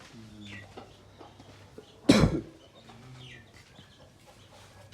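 A tall rooster in a Punjabi poultry yard gives one loud, harsh vocal burst midway, standing out against faint background murmurs and low farm noise.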